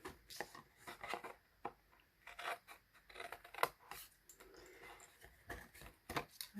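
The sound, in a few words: scissors cutting paper for an ornament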